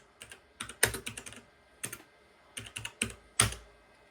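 A computer keyboard's plus key, its backlight no longer working but the switch still functioning, is pressed repeatedly in irregular clicks and short bursts, close and clear, with no talking.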